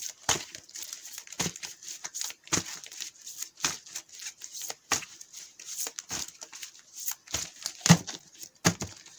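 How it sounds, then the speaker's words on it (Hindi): Tarot cards are shuffled by hand, close up: a steady run of short papery riffles and slaps repeating roughly every second. "अब ये भी कार्ड्स का शफल करता हूँ।"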